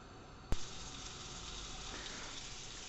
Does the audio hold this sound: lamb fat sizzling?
yes